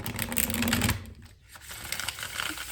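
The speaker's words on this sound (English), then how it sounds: "One more shuffle here." An oracle deck of Divine Goddess cards being shuffled nearby: a quick riffling flutter of cards, a short pause, then softer rapid card clicks, alone without talk.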